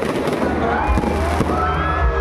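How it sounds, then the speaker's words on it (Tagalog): Fireworks burst over a town plaza during an opening-lights event, with repeated crackling pops and low booms in quick succession, fairly close and loud, and faint crowd voices in the background. "Oh, fireworks."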